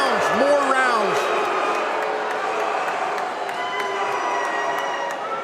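A cagefighting crowd at a fieldhouse event roars and cheers after a controversial split decision, a dense sustained wall of shouting and whistles that stays loud throughout, with a commentator's voice over it.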